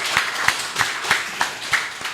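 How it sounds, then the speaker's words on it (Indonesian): Applause at a talk-show style event in Cilegon comes as a steady, evenly spaced rhythm of sharp hand claps, about three per second, close and clear with no talking. "Tepuk tangan lagi."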